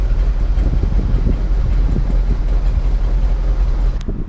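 A $2,000 dump truck engine idles at low RPM, around 600: a loud, steady, deep rumble with an even low throb throughout, close and alone.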